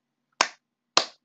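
Two crisp finger snaps about half a second apart ring out in near silence, each a sharp close crack with a brief tail, with no voice present.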